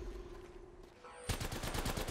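Automatic gunfire in the video game Apex Legends breaks out suddenly after a quiet lull, a loud rapid rattle of close shots that continues to the end.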